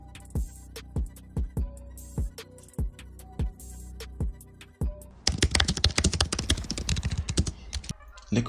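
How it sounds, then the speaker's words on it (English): Keys pressed on a computer keyboard while editing a photo in Photoshop: about a dozen separate, evenly spaced taps, then a fast, dense flurry of typing clatter, all close and crisp with no talking. "press Ctrl and J on the keyboard to duplicate my background layer"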